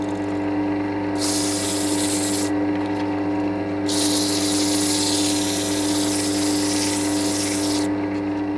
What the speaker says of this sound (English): and then we can start sanding